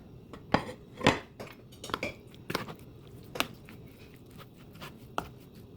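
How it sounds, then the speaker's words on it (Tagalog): Quesadilla ingredients mixed in a bowl, giving a series of sharp utensil clinks and scrapes against the bowl at an irregular rhythm, close and moderately loud, with no talking. "na-mix na po natin"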